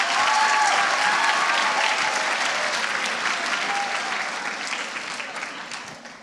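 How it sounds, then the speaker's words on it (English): An audience at a children's Christmas lecture on climate change claps in a full round of applause, loud and dense at first, then gradually thinning and fading toward the end. "Can we have a little round of applause for Seb first?"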